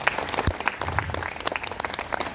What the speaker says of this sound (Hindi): एक बार जोरदार अपने लिए तालियां बजाओ